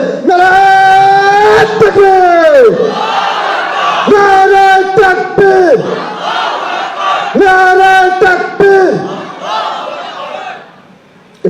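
A crowd chants a religious slogan (takbir) in loud, repeated unison bursts led by voices, roughly three drawn-out shouted phrases separated by short gaps, fading at the end.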